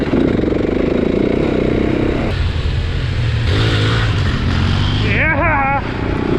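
A Husqvarna 701 single-cylinder motorcycle revs loudly and close, its engine note rising and falling in several pulls with a quick swooping burst near the end.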